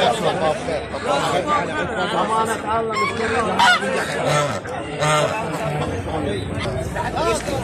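Ducks and other fowl at a Friday livestock market in Aziziyah, dense honking and quacking mixed with the chatter of a crowd, with people talking close by.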